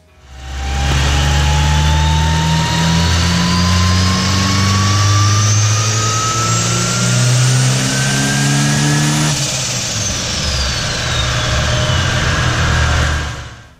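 A turbocharged car engine revs hard on a dynamometer, a loud, continuous roar with rising pitch that climbs steadily, drops abruptly near the end, then holds, with no talking.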